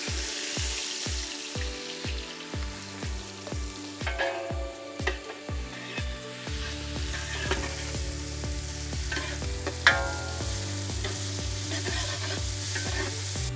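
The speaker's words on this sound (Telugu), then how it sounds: "ఆయిల్, నూనె వేడైన వెంటనే దీంట్లోనే మనం సన్నగా తరిగిన ఉల్లిపాయ ముక్కలు యాడ్ చేద్దాం." Thinly sliced onions sizzle and fry in hot oil in a pan for chicken tikka masala, a steady close crackle broken by rhythmic stirring scrapes.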